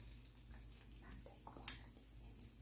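Eggs frying in a pan on medium heat give a quiet, steady hiss with one brief sharp tick partway through. No one speaks.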